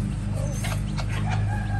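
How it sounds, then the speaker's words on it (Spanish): A hen clucks among her newly hatched chicks, soft close clucks mixed with faint high peeping, over a steady low background hum. "esta es la gallinita que estaba atrás de los barriles del alimento"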